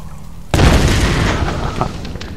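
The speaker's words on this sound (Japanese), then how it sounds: "あのガスのとこにね、炎をぶち込んだら爆発しよるからね。" Gas explosion in the Tomb Raider video game, set off when fire is shot into a gas leak: a sudden loud boom that hits all at once and then rumbles on with a broad, sustained roar of blast and debris.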